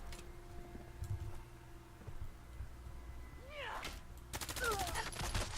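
Rapid bursts of minigun fire in the game Fallout 4, a dense rattling volley building toward the end, with scattered game effects and a cat-like cry earlier in the mix.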